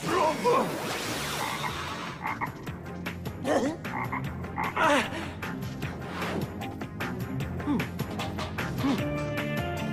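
A cartoon toad croaks in a spooky magic-school scene from the animated series Martin Mystère, loud repeated croaks with whooshy magical effects and a music bed underneath.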